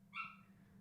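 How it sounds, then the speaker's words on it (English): A dog with separation anxiety gives one short, high whimper or yip indoors, faint and somewhat distant, behind a steady low hum. "Sorry if you guys can hear my dog in the background."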